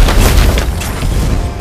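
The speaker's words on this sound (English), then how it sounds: "Your team destroyed a turret!" A loud booming explosion as a turret is destroyed in the Mobile Legends mobile game, a dense, continuous low rumble with crackling bursts lasting under two seconds and no talk.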